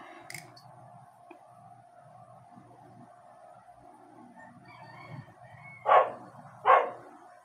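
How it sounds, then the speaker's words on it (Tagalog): A dog barks in the distance, two short sharp barks near the end of a quiet indoor stretch with a low steady hum. "Ayan, meron pa tayong background na tahol ng aso."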